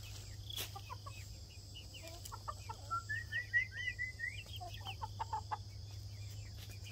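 Backyard chickens clucking at a farm where emus and rheas are also kept, a run of short bird calls mid-range in distance, with soft clucks and chirps scattered over a steady low hum.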